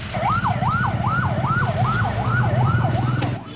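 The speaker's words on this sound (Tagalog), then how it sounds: "Nang dumating ang ambulansya, agad na sinakay sa stretcher ang mga biktima at dinala sa ospital." Ambulance siren wailing in a steady rising-and-falling cycle, loud and close, repeating about seven times over a low engine rumble on a road in Naga City.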